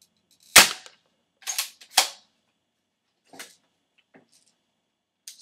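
An airsoft Uzi fires single shots, sharp close snapping pops, three louder ones in quick succession followed by a few fainter clicks, with no other sound between.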